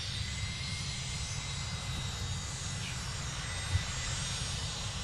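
An Etihad airliner sits at Manchester Airport while jet engines hum as a steady, distant low roar with faint airport background noise and no talking.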